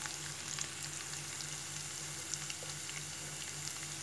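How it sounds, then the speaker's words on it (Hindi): Turmeric and garlic sizzle in hot oil in a pan for a desi onion pakoda kadhi while being stirred, a steady close frying crackle with faint scraping and no talking. "हमें हल्दी को इस ऑयल में ही पकाना है, तो इसे ऐड करिए और मिक्स करिए अच्छे से।"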